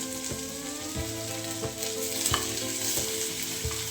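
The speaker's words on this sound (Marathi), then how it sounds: "कांदा परतून घ्यायचा जास्त परतून नाही घ्यायचं आपल्याला हलकंसे परतून घ्यायचे" Chopped onion sizzles in a pan while being lightly sautéed, a steady close hiss broken by regular scraping strokes of a stirring spoon, with no one talking.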